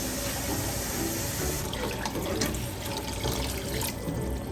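Water streams steadily from a tap into a pot of basmati rice for pulao, a continuous splashing fill that stays loud and unbroken with no voices over it.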